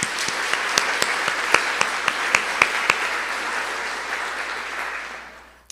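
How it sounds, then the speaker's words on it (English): A banquet audience claps for the catering staff, starting with a few sharp individual claps that swell into steady applause and then slowly fade out. "please join me in showing our appreciation with a round of applause for Fresh Ideas"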